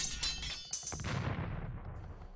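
Hand cannoneers firing in an Age of Empires II match on the Arabia map, a few sharp cracking blasts close together with rumbling decay, alone without talk.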